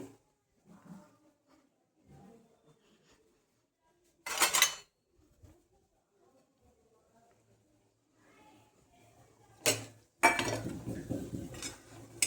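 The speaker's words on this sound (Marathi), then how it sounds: "आता डिश घेते काढायला" Dishes and cutlery clink as a plate is taken out after frying matar patties in a home kitchen, two sharp bursts of clatter separated by quiet stretches, then busier rattling near the end, with soft voices in the background.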